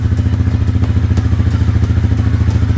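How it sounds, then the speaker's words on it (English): A 2013 Honda CBR250R Repsol Edition with an Akrapovic exhaust idles loud and close, its single cylinder giving a steady, deep, rapid thumping pulse with a slight mechanical clatter and no voices. "Well, sounds like a thumper, as you can tell if you've heard single-cylinder bikes with exhausts."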